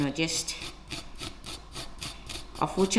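Two garlic cloves grated into butter, a steady rhythmic rasping scrape repeated close up, with a brief louder clatter at the end.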